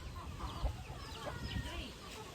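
Chickens cluck softly nearby in short, scattered calls over faint background noise.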